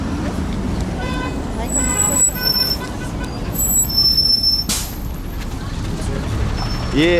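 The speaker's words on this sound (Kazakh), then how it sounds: "Біздің автобус келді." A city bus pulls up at a stop amid steady roadway traffic, with a low engine rumble, brief high toots and a hiss of air brakes near the end, while people talk nearby.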